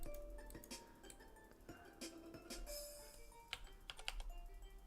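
Quiet rapid typing on a computer keyboard, irregular bursts of key clicks and taps over a low room hum, faint and close, with no voices.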